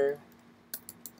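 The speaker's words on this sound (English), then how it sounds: "I wanna practice typing the quotes" Typing on a computer keyboard while coding a simple Mad Libs game in Python, a few separate key clicks near the end after a brief murmur of speech at the start, quiet and close.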